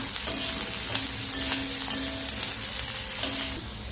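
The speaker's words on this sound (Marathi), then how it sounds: "तो थोडा लाल होईपर्यंत भाजायचा" Onion frying in a pan until lightly browned, for an okra dish, gives a constant close sizzle with a few soft scrapes of a stirring spoon, no talking over it.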